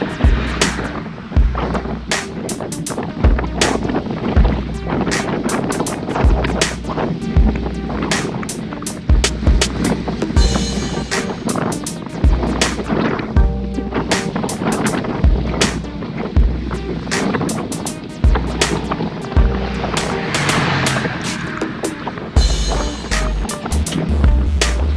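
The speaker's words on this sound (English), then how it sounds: "The wind is heavy here," Strong wind buffets the microphone during a group road ride around Tri Lakes, a continuous loud rush with repeated low thumping gusts throughout.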